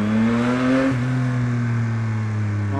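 Yamaha XSR900 motorcycle, bar end fitted and side mirrors removed, revving hard to high RPM close by, a strong steady engine tone with a pitch shift partway through and the engine held high to the end.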